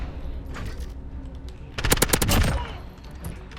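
MP7 submachine gun fire in Call of Duty: Modern Warfare, a quick rapid burst of sharp automatic shots in the middle of the stretch, loud and close over quieter game ambience before and after.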